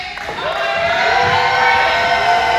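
A wrestling show crowd roars and cheers in a sustained, loud swell, with whistles and shouts carrying over the continuous noise of the arena.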